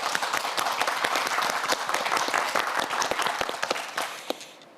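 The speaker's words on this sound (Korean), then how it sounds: "우리 네 학생 모두에게 큰 박수 보내주시기 바랍니다." A studio audience applauds students competing on a televised science quiz show, with dense, steady clapping that stays loud for several seconds and then tapers slightly near the end.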